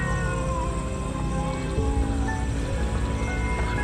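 Cat crying and meowing outdoors in a jungle area, thin wavering cries under a dense, loud wash of ambient noise, with no clear speech.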